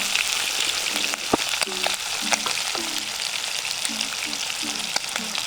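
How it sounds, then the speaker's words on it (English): Chicken frying in hot oil in a pan on the stove, with a constant sizzle broken by repeated sharp pops and crackles that come at irregular intervals, close and loud. "oil does pop. So do be careful."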